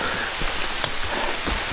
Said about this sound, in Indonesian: Cuma ini gara-gara hujan tipis-tipis ini ya